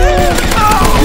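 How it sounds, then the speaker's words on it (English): Gel blaster fired in rapid full-auto bursts during an indoor toy blaster game, a dense run of sharp pops over a steady loud background with faint voices around. "I got this gel blaster."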